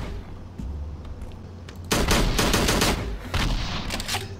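Gunshots from the Slendytubbies 3 multiplayer video game ring out as a loud close volley after a quieter start, followed by a second burst of rapid shots.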